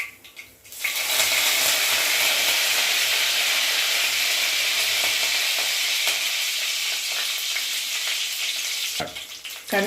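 Mustard seeds, fenugreek and cumin sizzle loudly in hot oil, a steady close crackling hiss that starts abruptly and runs throughout, with a brief clatter near the end.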